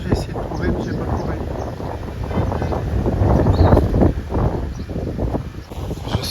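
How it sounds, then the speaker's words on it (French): Strong wind at a market buffets the microphone in a steady, rumbling roar that swells and gusts throughout, with faint voices mixed in. "Il y a un vent du tonnerre."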